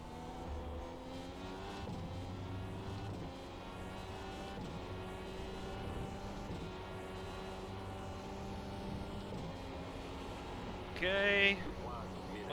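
IR-18 open-wheel race car in iRacing at Road America, its engine droning steadily with shifting pitch through the whole stretch, briefly louder near the end, under continuous talk.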